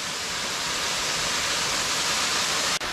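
A waterfall in a rocky gorge, heard from very close as a dense, unbroken roar of falling water, loud and even throughout, with one brief dip near the end.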